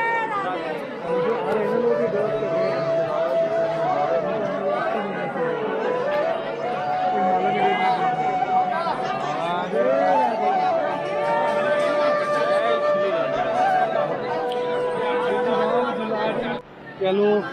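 A dense crowd at a Vrindavan temple during Holi, with steady loud chatter and overlapping voices all around, plus some higher sustained tones rising above the hubbub.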